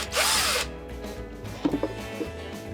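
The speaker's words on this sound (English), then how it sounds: "Before you use your drill, make sure you put it in a setting that's really low to start with." A power drill on a low setting bores into a plastic container for a homemade watering can, whining loudly for a short burst near the start, then followed by a few light clicks and handling knocks, close and without talk.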